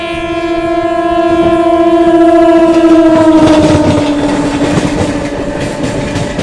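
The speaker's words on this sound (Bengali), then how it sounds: "একটা ট্রেন যাচ্ছে" An Amrit Bharat electric locomotive-hauled train roars past up close, its sustained horn-like tonal wail sliding slightly downward over loud continuous rolling rumble and wheel clatter, swelling at mid-pass.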